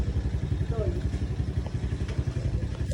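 A motorcycle engine idles with a steady low, pulsing throb beside a new house, while faint voices carry in the background.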